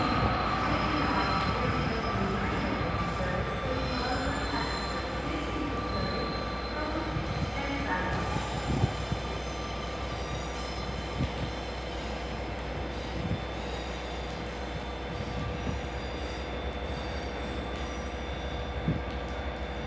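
A Class 153 diesel railcar in Visit South Devon livery rumbles and clatters as it pulls away from Exeter St Davids station, with wheel squeals and metallic clunks over a steady low drone, heard from nearby.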